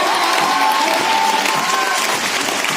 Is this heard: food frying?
no